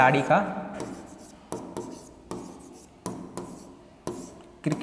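Chalk or marker scraping on a board during a classroom lesson, a series of short strokes repeating roughly every second, close and fairly loud, with a voice briefly at the start.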